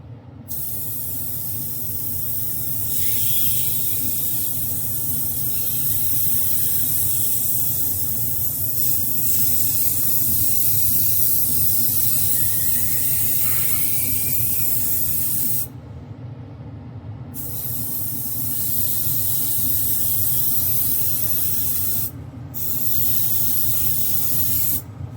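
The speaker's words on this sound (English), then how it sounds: "So I'm going to get him primed with the Stynylrez primer" An airbrush sprays Stynylrez primer onto a 3D printed Joker figure, giving a long, steady, close hiss that stops briefly twice before resuming.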